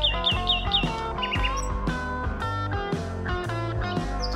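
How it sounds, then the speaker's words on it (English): Loud, harsh peacock calls ring out in a series of repeated honking wails, close and clear with no talk over them. "Peacock."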